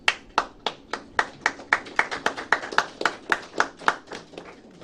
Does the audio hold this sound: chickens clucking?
no